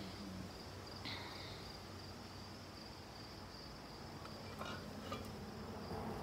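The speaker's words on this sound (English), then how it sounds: "you just dropped a handful of bees" A steady, soft buzzing of many bees around a hive frame, a continuous hum with a few brief louder passes, fairly close and alone without voices.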